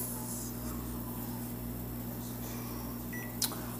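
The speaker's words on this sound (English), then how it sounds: "And you want to just stick it in your microwave." A microwave oven runs with a steady, even electrical hum close by, and a short beep sounds near the end.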